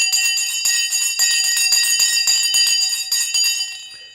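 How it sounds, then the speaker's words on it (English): A bell rung to mark the stock market open during a live trading broadcast rings continuously with bright, sustained metallic tones and rapid repeated strikes, loud and close, with no talking over it. "The bell has now gone."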